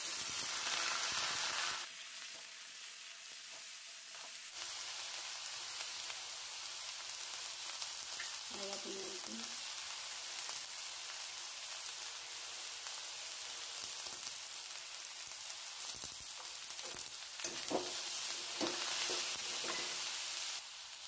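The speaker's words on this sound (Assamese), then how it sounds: "আলু বেঙেনা ভাজি হৈ গৈছে" Potatoes and brinjal fry in a pan, giving a continuous soft sizzle with occasional stirring scrapes and small clinks, close and steady throughout.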